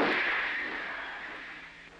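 A torpedo launches from a US nuclear submarine, heard as a loud pressurized whoosh that starts at full strength and fades steadily over about two seconds, with nothing else over it.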